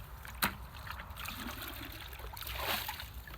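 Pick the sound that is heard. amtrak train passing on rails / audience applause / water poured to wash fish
water poured to wash fish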